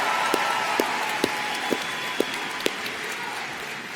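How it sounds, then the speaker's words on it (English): Audience applause at the Manvel High School class of 2018 graduation ceremony, a steady roar of clapping from a large crowd with sharp, louder claps standing out at regular intervals. "Let's give you guys another round of applause"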